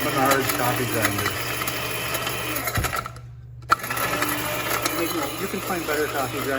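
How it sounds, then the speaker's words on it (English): A cheap $10 Menards coffee grinder grinding bark produces a loud, continuous buzzing whir that cuts off briefly and then restarts with a click, running steadily close to the microphone with no talking. "Menards coffee grinder."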